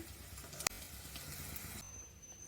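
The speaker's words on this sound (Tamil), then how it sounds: "ஒரு ஸ்பூன் மிளகுத்தூள் தான் எடுத்திருக்கேன் அதை சேர்க்க போகிறேன் சேர்த்துட்டு நல்லா கிளறி விட்டுக்க வேண்டியதான்" Goat liver with ground black pepper sizzles quietly in a pan, giving a faint, steady frying hiss, with one sharp clink of the spoon against the pan during stirring.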